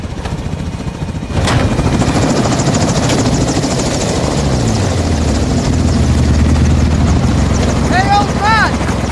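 A helicopter in Call of Duty Modern Warfare 2 thuds loudly and steadily with a dense rotor chop, starting after a short lead-in and continuing without a break, with faint game effects layered over it.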